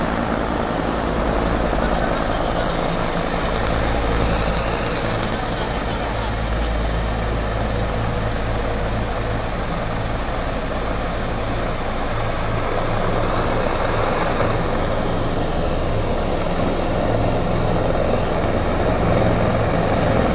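A military aircraft of the Indonesian army takes off in Papua, producing a loud, steady, broad engine roar that stays constant for about twenty seconds with no clear talk.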